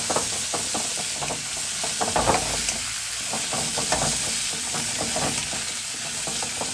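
Shrimp, vegetables and sesame seeds are stirred through a hot pan for kung pao shrimp. A steady, close sizzle runs under repeated rhythmic scraping strokes.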